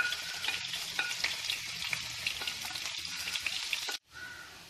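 Ginger and garlic frying in oil in a pan, a steady dense sizzle close up with stirring scrapes through it, cut off abruptly near the end.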